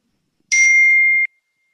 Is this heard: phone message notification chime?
yes